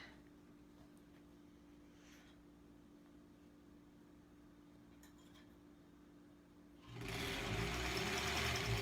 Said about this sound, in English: we just have these 3 rows to sew together